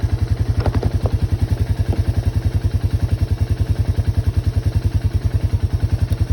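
A Yamaha YTM225 ATV engine with choke on, fitted with a 30mm Mikuni carburetor, idling in a fast, steady loud putter with even rhythmic firing pulses close by, a few faint clanks early on.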